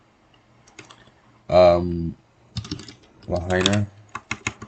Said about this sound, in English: Alright, I'm typing Honolulu and moving on.